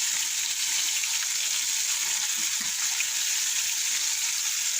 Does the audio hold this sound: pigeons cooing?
no